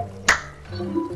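A single sharp, bright clap from the Club Penguin video game, one quick snapping hit near the start over a low background hum.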